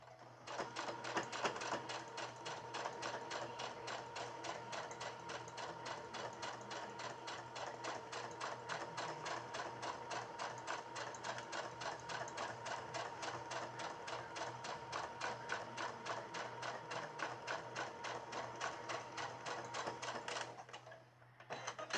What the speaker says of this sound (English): I'm going to put my presser foot right down at the bottom, and I'm going to hit my back stitch button.